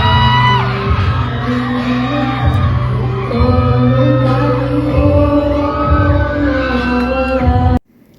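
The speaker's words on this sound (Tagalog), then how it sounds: "Habang patuloy silang kumakanta, walang tigil ang hiyawan ng kanilang mga fans." Fans at a live performance by a group whoop, shout and cheer nonstop over loud music with singing, a dense roaring crowd that cuts off abruptly near the end.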